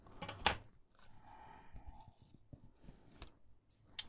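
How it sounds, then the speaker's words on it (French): Scissors snip away the excess paper from a handmade book-shaped gift box, the blades sticky with glue, giving a few close, crisp cutting clicks and rasps spaced irregularly. "Je viens couper le surplus."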